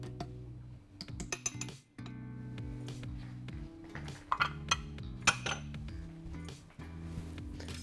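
Corn starch and cocoa powder being stirred together in a bowl, with repeated light clinks and scrapes of utensil against the bowl in an irregular rhythm, close and moderately loud, with a steady low hum underneath.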